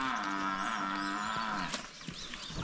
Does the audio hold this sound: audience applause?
no